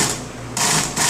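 Sewing machine stitching a buttonhole into a waistband, a steady close mechanical whir of rapid stitches that pauses briefly and resumes in loud bursts.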